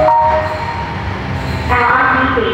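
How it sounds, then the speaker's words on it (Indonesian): A Palembang LRT light rail train arriving at a station makes a loud rumbling roll with a sharper metallic rise and squeal near the end, and faint voices sit underneath. "ini kereta api kita tujuan JKA sudah sampai"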